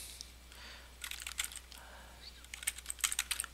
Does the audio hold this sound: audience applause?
no